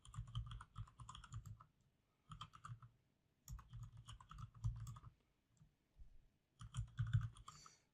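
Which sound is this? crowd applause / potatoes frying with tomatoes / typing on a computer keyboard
typing on a computer keyboard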